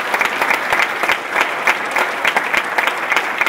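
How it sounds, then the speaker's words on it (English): An audience at a 2013 summit event with Governor Jerry Brown and NASA applauds steadily for the city's visitors, a dense, even wash of clapping from many hands throughout. "So I'd like to give a round of applause for our city's visitors"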